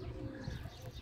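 Soft, low coos of pigeons in a garden repeating in a gentle rhythm, close by and fairly quiet, with no talking.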